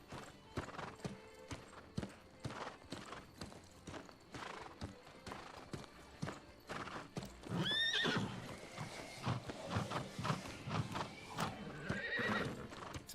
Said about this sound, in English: All I've done is get a horse and ride it there and fro